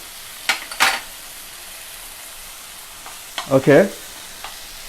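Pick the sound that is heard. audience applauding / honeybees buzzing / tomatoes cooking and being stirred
tomatoes cooking and being stirred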